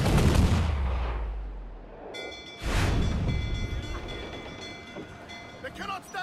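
Ship cannons fire in the Assassin's Creed 4 Black Flag video game, with two heavy booms: a strong low blast at the start and another just past two seconds, followed by rumbling, clatter and faint voices.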